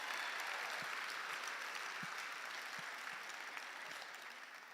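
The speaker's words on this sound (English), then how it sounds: "All right, now you can clap." Audience clapping for a speaker, a sustained even patter of applause with a few low thumps, gradually fading slightly toward the end.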